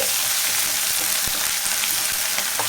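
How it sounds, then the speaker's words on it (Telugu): Chopped tomato frying with ginger garlic paste gives a loud, dense, steady sizzle, close up and unbroken, with a faint tap of a utensil midway and no speech. "ఇప్పుడు సన్నగా కట్ చేసుకున్న టమాటో కూడా వేసేద్దాం టమాటో కూడా మెత్తబడేంత వరకు అయితే ఫ్రై చేసుకోవాలి"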